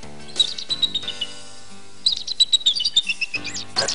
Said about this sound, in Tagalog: Aba! Gising na ang ibong mahiwaga!